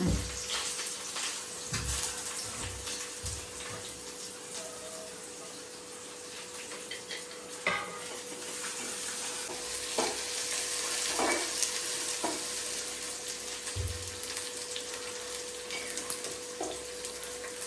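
Spices and coconut for a roasted fish curry sizzle and fry steadily in a pan, with occasional scraping and stirring clatters, close by, and no talking.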